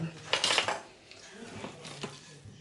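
Cake batter with flour and apples being mixed in a bowl, a few clinking utensil-on-bowl knocks, loudest at the start and then softer, scattered taps.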